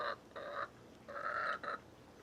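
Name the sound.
chicken making noise in the morning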